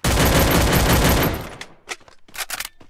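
A burst of gunfire in the video game Free Fire, a loud dense volley lasting over a second, then scattered sharper shots and impacts trailing off, close and heavy.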